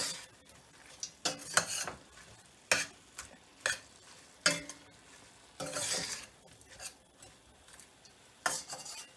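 Jamaican curried lobster stirred in a pot produces bursts of scraping and clattering utensil strokes against metal, irregular and close, over a low simmering sizzle with no voices.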